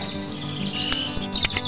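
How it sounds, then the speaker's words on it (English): Birds chirp in a backyard squash garden, bright high tweets and short calls over a steady outdoor background, with a few louder chirps near the end. "a lot of the birds and the wildlife, birds, and insects stay back there"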